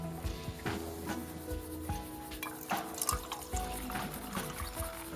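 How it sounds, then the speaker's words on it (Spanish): Water is poured into an upper container, a quiet continuous trickle with dripping splashes and faint knocks, heard up close and without talk. "vierta agua en el recipiente superior"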